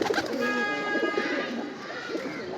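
Several pigeons coo softly and continuously in a loft, their low murmuring calls overlapping, with faint chirps and rustling in the background.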